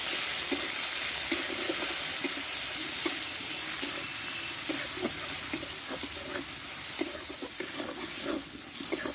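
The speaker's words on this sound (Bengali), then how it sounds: "এই টমেটোটা একটু কষে নেবো" Tomato with salt and turmeric sautés in a pan, giving a steady hiss of frying with repeated light scraping and stirring taps throughout, fairly close and with no voices.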